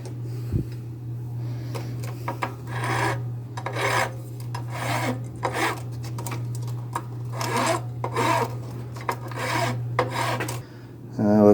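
Hand filing of a bevel on the top of a small Atari 7800 joystick part, steady rasping strokes in bursts with short pauses, close and fairly loud over a constant low hum, no talk.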